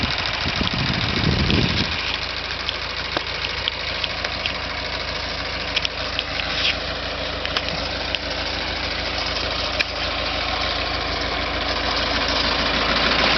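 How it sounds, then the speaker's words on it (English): A tractor engine runs steadily up close, a loud continuous rumbling drone with a throaty knock, never letting up. "When you get up close to the tractor, it's pretty loud"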